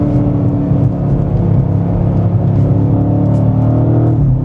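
A BMW M5 engine runs steadily at a loud, close, throaty idle with a constant rumble and no voices.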